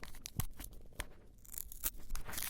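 Cardboard and plastic packaging on a toy box tears open in a few short, crisp rips and crunches, fairly quiet and close, with no talking.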